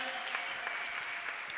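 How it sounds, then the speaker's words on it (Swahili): A church congregation claps together in a brief burst of even, continuous applause, heard faintly as though from a distance, with a few sharper claps standing out. "wengine wanasema hebu mpigie Bwana makofi mengi."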